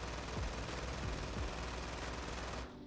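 A TEC-9 automatic pistol in Modern Warfare II fires one unbroken rapid burst, dense and loud, cutting off sharply at the end.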